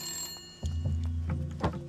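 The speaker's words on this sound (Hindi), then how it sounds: "विधायक जी का फोन है।" A telephone bell rings indoors in short trilling bursts, fairly faint and close, with a low hum underneath.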